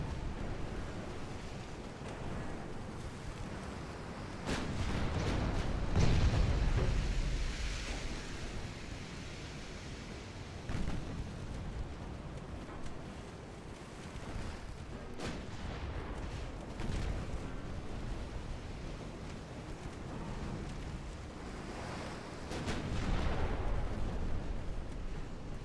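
Secondary guns on a warship in a naval video game fire at cruisers, a dense rumbling barrage of booms and blasts that swells and fades over a steady roar.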